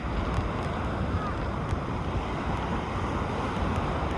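Strong ocean waves on the Aurora coast roar in a dense, continuous wash, loud and close, with heavy wind buffeting the microphone throughout.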